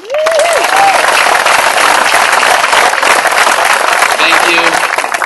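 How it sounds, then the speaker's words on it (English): Audience at a graduation ceremony applauding the soon-to-be graduates: loud, dense, sustained clapping from a large crowd, with a few cheering voices rising briefly at the start. "Let's have a round of applause for our soon-to-be graduates."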